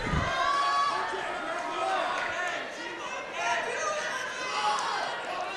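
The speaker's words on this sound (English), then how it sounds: "Crowd seems to be getting into it too" Crowd at the 2025 GMC Wrestling Finals 114 bout keeps up a steady, lively roar and chatter that swells and dips late in a tense match, with a commentator talking over it.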